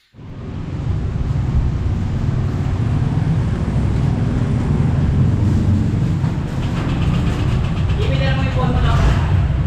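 A 2025 Honda Click 125 V5 scooter starts up and settles into a steady, loud idle heard close by, with a brief voice near the end.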